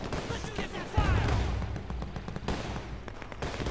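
A heavy, booming cannon blast in the strategy game Men of War II, followed by rumbling gunfire and a dense mix of game effects, with a voice talking over parts of it.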